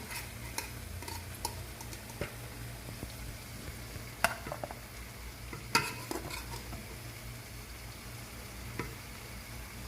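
A spoon scrapes and stirs mutton pulao in a pot, soft frying sizzle underneath with occasional sharper clinks of metal against the pot, close and fairly quiet.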